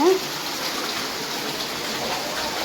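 Rainwater flowing into a house during heavy rain, a steady broadband wash of running water that holds from start to end, with a brief voice at the very beginning.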